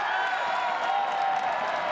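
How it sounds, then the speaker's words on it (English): Stadium crowd at Alumni Stadium cheering steadily through a tense late stretch of a women's soccer match between Notre Dame and Duke, a continuous dense roar with scattered applause. "Crowd swelling here at Alumni Stadium"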